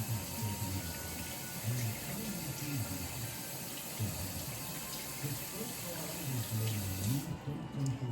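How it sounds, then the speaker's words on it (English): Running tap water pours into a kitchen sink as hands are washed during home bread-making, a soft, continuous splashing stream under a person's low talking. "Let me wash my hands."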